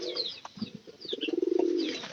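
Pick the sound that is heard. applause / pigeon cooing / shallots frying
pigeon cooing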